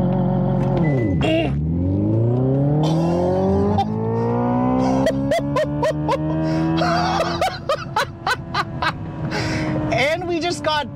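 Hyundai Ioniq 5 N electric hot hatch in a launch control run, its synthesized fake engine note rising in pitch through simulated gear shifts, loud and close, with a person talking over it.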